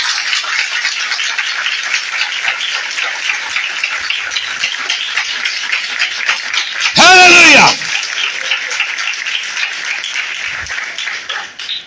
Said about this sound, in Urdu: روح القدس کے لیے زوردار تالی بجاؤ